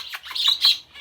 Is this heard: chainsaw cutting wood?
no